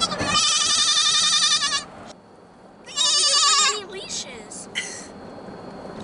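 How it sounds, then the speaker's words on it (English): A goat on a farm bleats loudly twice, each call a long wavering cry with a short pause between, followed by softer voices talking. "That's a goat for you."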